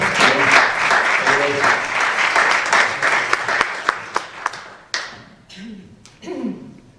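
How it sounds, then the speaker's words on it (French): A conference audience applauds loudly at first, then the clapping thins into scattered individual claps and taps before fading, with a few voices and thumps near the end. "on applaudit, si vous voulez bien, très très fort"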